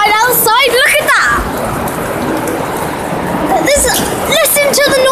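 Heavy rain pours steadily through a storm, a dense close roar that stays loud throughout, with excited voices talking over it at the start and again near the end.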